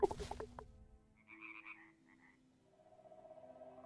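Frogs croak in a game's wetland environment: a quick burst of rough croaks up front, then softer warbling calls and a steady trilling drone, fairly faint overall.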